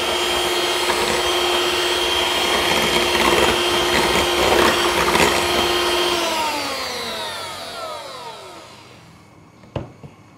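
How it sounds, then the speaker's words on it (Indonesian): Electric hand mixer whirring steadily at low speed through pukis batter, a continuous motor drone with a constant pitch that winds down and fades out near the end, followed by a brief clatter. "Lanjut kita mixer sebentar. Dengan kecepatan rendah saja ya."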